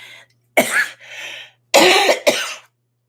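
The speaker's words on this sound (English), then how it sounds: "Pardon me, I don't mean to cough all over you guys." A man coughs several times in close, loud bursts: a short cough, then a pause, then two harsh coughs in quick succession, with no talk over them.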